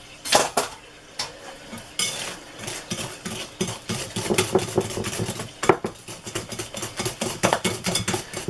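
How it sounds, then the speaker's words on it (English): A whisk clatters against a bowl while cake batter is beaten by hand for a Christmas cake, giving a steady run of close, metallic scraping and clinking strokes that grows busier toward the end. "just want to whisk this"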